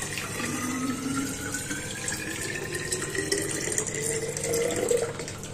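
Tap water pours steadily into a bottle, a continuous close splashing rush whose tone rises gently as the bottle fills, with no talking.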